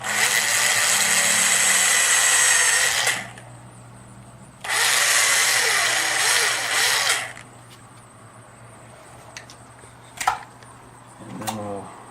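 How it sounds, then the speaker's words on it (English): Power drill boring into an entry door for door hardware, two loud sustained bursts of whirring with a pause between, followed by quieter tool clicks and handling noises near the microphone. "You take the drill and you drill into that."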